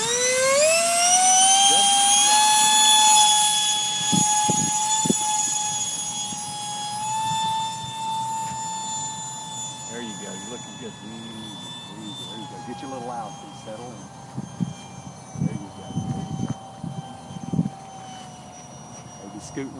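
An RC F-35 model jet with a 50mm electric ducted fan and 6000kv motor spools up to a loud, rising whine, then holds a steady high-pitched drone outdoors in wind, with a person talking over it.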